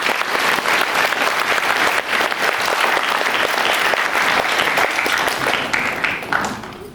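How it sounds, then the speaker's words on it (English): An audience at an Independence Day gathering applauds the performers, with loud, sustained clapping filling the whole span and easing slightly only at the very end. "Let us applaud once again for all the performers"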